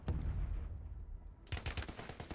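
Video game gunfire crackles in a burst of rapid shots after a rumbling opening, moderately loud and fairly close.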